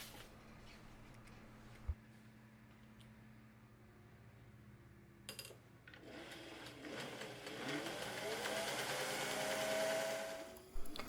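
A sewing machine running gathering stitches on satin and cotton for a Regency sleeve, starting after a few faint clicks and building into a steady, fairly quiet whirring run that lasts several seconds.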